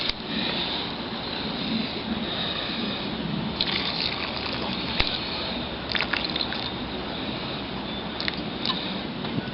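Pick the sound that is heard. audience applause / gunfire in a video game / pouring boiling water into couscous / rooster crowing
pouring boiling water into couscous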